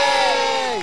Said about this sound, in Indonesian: Sekali lagi saya minta tepuk tangan untuk Cherry Bell